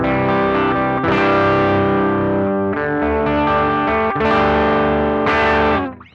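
Electric guitar through a BOSS FBM-1 '59 Bassman overdrive pedal with all knobs at noon, recorded via line out from a Koch tube preamp pedal: warm, thick overdriven chords and notes ring out in several loud phrases, alone, ending in a fade.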